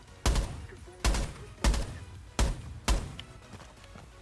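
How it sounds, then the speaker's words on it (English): Five sharp, loud gunshots in Rainbow Six Siege, fired at a wooden barricade, spaced roughly half a second to a second apart, each with a short decaying tail over a quiet background. "You're going to just shoot a little hole out,"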